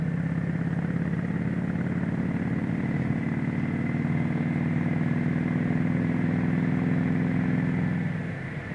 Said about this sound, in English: I got two people going uphill, and this bike is not slowing down at all